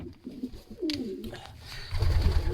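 Stock pigeons in a loft give soft, low, rolling coos near at hand, with a brief flutter partway through and a deeper murmuring coo building toward the end.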